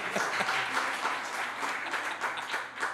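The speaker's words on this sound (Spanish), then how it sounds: "Un aplauso para esta pareja que vino con todo." A live studio audience at a Spanish-language talk show applauds a couple, producing a dense, steady burst of clapping that stays loud for a few seconds with no speech over it.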